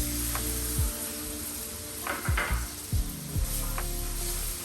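Besan flour frying in ghee in a pan for besan burfi, milk just added: a loud, steady sizzle close up, broken by a few scraping strokes of a spatula.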